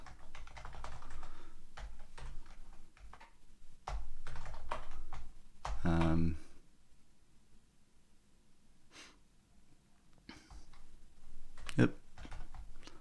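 Brand-new computer keyboard typed on in quick irregular bursts of clacky keystrokes, close and fairly loud, with a few pauses and some breathing between runs.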